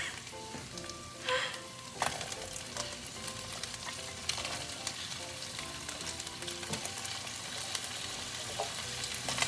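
Potatoes frying in a hot pan give a steady, dense sizzle with crackling pops throughout, loud and close, with occasional stirring.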